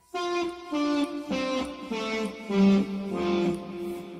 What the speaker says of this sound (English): I'm using my little finger just to swell up like that, little volume swell